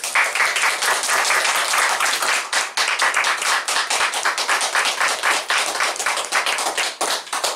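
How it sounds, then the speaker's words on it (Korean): An audience at a Christian professors' forum applauds a speaker's entrance, loud, dense clapping from a full room that holds steady for several seconds with a brief dip near the end. "우리 남기영 총장님 나오실 때 우리 크게 환영하는"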